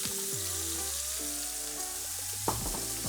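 Chopped bacon frying in about two tablespoons of olive oil gives a steady, close hiss and sizzle, with faint tonal hum underneath and a brief clatter near the end.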